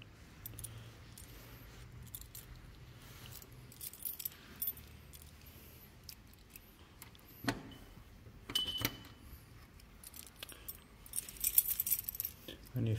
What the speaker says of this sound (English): When you find a set of keys,